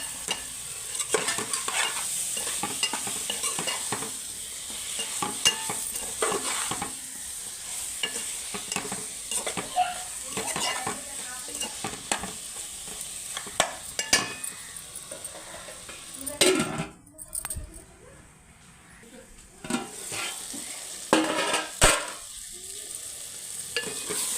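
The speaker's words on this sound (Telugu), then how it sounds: "ఇప్పుడు వంకాయలు అయితే మనం కారంలో నుప్పులోనే గట్టి బాగా మగ్గబెట్టుకుందాం" Brinjal stewing with chili powder and salt in a pan, a continuous close sizzle with frequent stirring and scraping of a spoon against the metal, a brief quieter gap midway, no talk.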